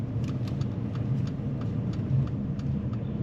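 A car's engine hums steadily from inside the cabin as it pulls away during a driving lesson, a low mid-pitched rumble with faint ticks and clicks over it.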